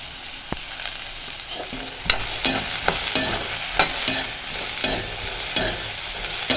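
Bitter gourd sautés with salt and turmeric in a pan, a steady low sizzle broken by sharp scraping stirs and clinks of a spatula at irregular intervals, close and alone.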